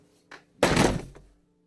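A window slams shut with a single heavy, close thunk. A brief lighter knock comes just before it, and the sound has a short rattling tail.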